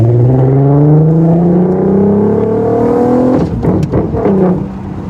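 Revving engine of an Audi TT R32 with quattro all-wheel drive, loud and close, climbing steadily in pitch for several seconds before easing off into a rougher, burbling note.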